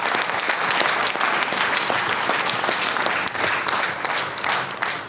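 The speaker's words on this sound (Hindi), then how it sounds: "एक जोरदार ताली आप अपने लिए बजाइए।" Loud, sustained applause from a large audience at a public gathering in India, dense clapping rolling steadily for several seconds without a break.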